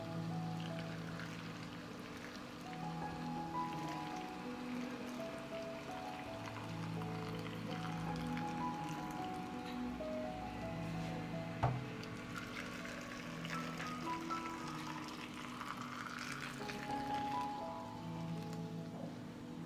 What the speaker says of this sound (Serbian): Voda je proključala i sipat ću je u tegle.